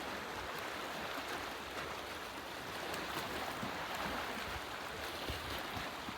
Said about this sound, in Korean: 이 첨벙첨벙 소리 들려?